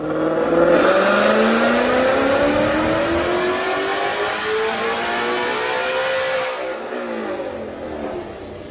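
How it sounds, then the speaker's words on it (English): Supercharged 2021 Ford Mustang Mach 1 with a manual gearbox on E85, roaring on a Dynojet dyno as the engine pitch climbs steadily toward 7,800 RPM, loud and close, then cuts off near the end. "Check out this dyno pull."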